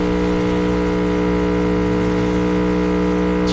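In the Cyberpunk 2077 video game, a car speeds through traffic with a steady, loud engine whine. Tonal layers hold constant throughout, like a high-speed cruise at full throttle.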